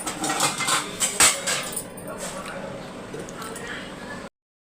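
A lid is set on a cooking pot holding tomato gravy, giving light metallic clinks and a sharp clatter near the start before quieter kitchen noise that cuts off.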